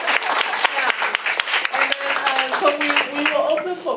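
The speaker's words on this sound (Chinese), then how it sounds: "那我们是不是在热烈的掌声谢谢他？" Audience applause at a family caregivers' association talk, thanking a visiting professor; steady broadband clapping fills the room throughout, with voices talking over it.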